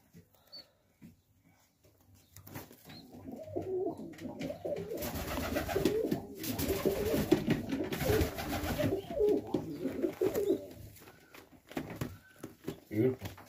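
Plump pigeons in a loft coo repeatedly, soft rolling calls close by, with a person talking between them and some rustling.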